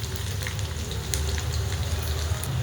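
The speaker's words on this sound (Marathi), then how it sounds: "मिरची आणि लसूण आपला फ्राय होतोय छान असा" Chili and garlic sizzling in hot oil in a pan while cooking methi bhaji, a steady close crackle and hiss with fine spattering pops that runs unbroken throughout.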